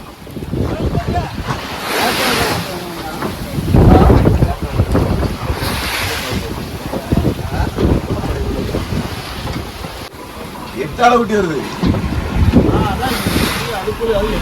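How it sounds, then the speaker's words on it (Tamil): Mechanized fishing boats head out to sea one after another at Kanyakumari, their engines rumbling low and steady under heavy wind buffeting and surf, with faint voices now and then. "கன்னியாகுமரியில் உள்ள விசைப்படகுகளுமே ஒன்று ஒன்றா கடலுக்குள்ளே போக ஆரம்பிக்குது"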